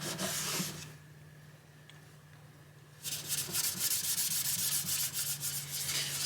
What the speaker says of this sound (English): clean it up really good and get a lot of this old dirt and sweat and gunk off of it